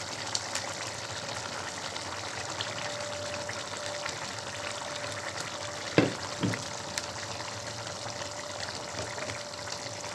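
Fish head, tail and small pieces cook in a pan for a cauliflower and coconut-milk fish kurma, with a quiet, even sizzle and bubbling. Near the middle come a couple of sharp knocks of a utensil. No voices.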